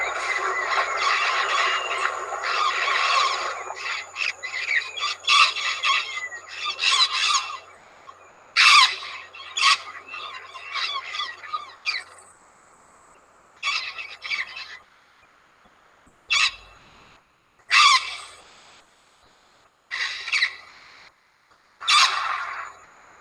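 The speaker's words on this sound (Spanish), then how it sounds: "estos cantos de las loras no son cantos muy elaborados" Wild parrots give harsh, squealing squawks in a series of calls, dense at first and then spaced into separate bursts with silent gaps between them.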